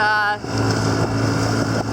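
A little boat engine, worked hard against river eddies, drones steadily with a low hum and rough wash of water and wind; the engine runs close and loud throughout, with a brief dip early on.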